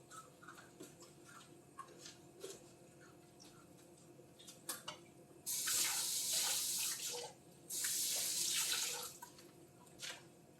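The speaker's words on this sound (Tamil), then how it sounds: "இப்போ கடுகு பொரிஞ்சிட்டு இருக்குது" Mustard seeds splutter in hot oil for a brinjal and peanut kara kuzhambu, with faint sparse pops at first, then two loud sustained bursts of dense crackling sizzle close by before settling back to scattered pops.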